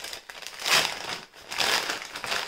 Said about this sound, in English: So let me tear this open.